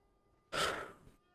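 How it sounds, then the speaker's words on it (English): A single huge yawn with a breathy, rising-then-falling exhale lasting under a second, close and fairly loud against a quiet background, with no talking. "that was a huge yawn"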